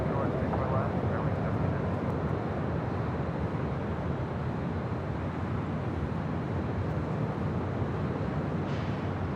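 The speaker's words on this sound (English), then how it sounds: "Next departure, Sun Country Airlines, flight 426, heading to Minneapolis," A Sun Country Airlines Boeing 737-800 departing Los Angeles International Airport for Minneapolis, a steady broad engine roar held at constant loudness throughout, distant rather than overhead, with no one talking.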